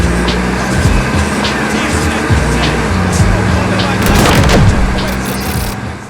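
A 1987 Buick Grand National with 30,000 miles is out on a test drive, with loud, continuous engine and road noise, a brief swell near the end, and some talk mixed in.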